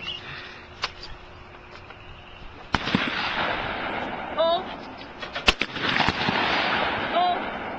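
A shotgun fires at night during skeet shooting, one sharp report followed by a few smaller bangs and clicks, with people talking and calling out quietly around it.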